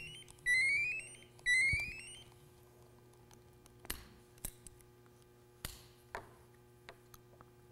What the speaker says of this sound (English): Installing the screws back in.